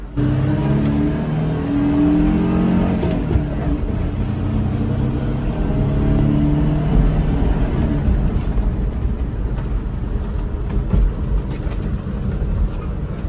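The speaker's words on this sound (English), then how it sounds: "Third gear. Go into fourth. Go into fifth." A Suzuki Jimny J2 fitted with a turbo accelerates through third, fourth and fifth gear. Its loud, close engine drone rises in pitch and breaks briefly at each shift, with no talk over it.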